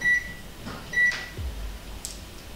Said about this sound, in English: It will beep and show the resistance of the wire.